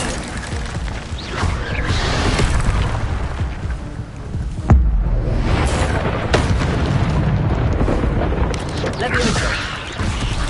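Fire spell Incendio cast in the game Hogwarts Legacy amid dense combat noise: a sharp booming burst near the middle over continuous rumbling blasts and crashes.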